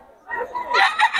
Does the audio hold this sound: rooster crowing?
yes